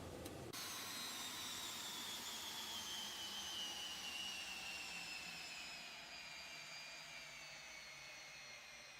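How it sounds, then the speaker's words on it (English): Simulated Embraer Phenom 300 light jet engines spooling down after shutdown on the ground, a loud steady whine and roar with falling high-pitched turbine tones that slowly fade. "We just shut down the engines."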